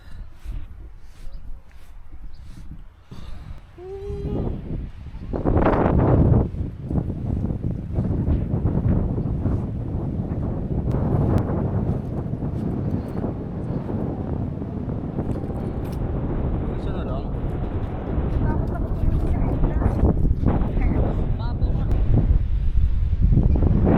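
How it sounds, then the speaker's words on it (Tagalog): Strong wind at a beach in Batangas buffets the microphone in loud, rough gusts, with surf and a person talking faintly underneath. "Sobrang lakas ng hangin niya, inaagos dito yung hangin"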